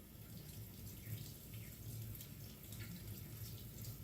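Tap water runs steadily into a kitchen sink as an onion and a knife are rinsed under it, a continuous close splashing hiss with no pauses and no talk.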